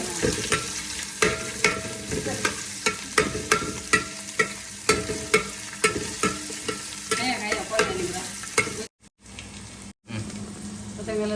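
Pomfret fish frying in a pan for a fish meal at home, with a steady sizzle and repeated sharp scraping stir strokes in a regular rhythm, close by, cutting out briefly near the end.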